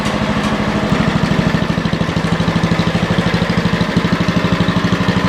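A 40-year-old Lincoln Weldanpower 150 welder generator engine runs steadily, its loud, close, rhythmic chugging putter continuing evenly throughout with no voices.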